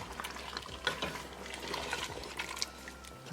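A spoon stirring homemade dahi into goat curry inside a pressure cooker pot, soft wet squelching and scraping strokes with faint liquid sizzling, close and steady without talk.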